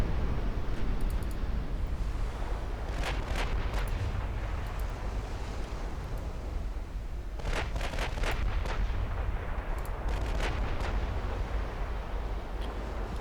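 Naval gunfire at a battleship in Ultimate Admiral Dreadnoughts, a rumbling, windy battle bed punctuated by clusters of sharp cracking shots, one burst early and a denser volley later.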